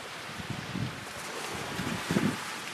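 Wind blows across a bright beach, a broad steady rushing buffet against the microphone with a few stronger gusts, continuous and fairly close.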